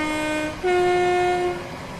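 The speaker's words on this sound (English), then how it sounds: "I like how loud the 323 horn is, as you would normally hear it in real life." Northern Class 323 electric train horn in Train Sim World 6, a loud two-tone blast: one steady tone, a brief break, then a longer, louder second tone over low cab rumble.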